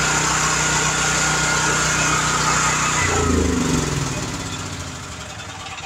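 Generator engine running at a steady, loud buzzing drone, then dropping in pitch and winding down about halfway through as it is shut off, fading to a lower rumble.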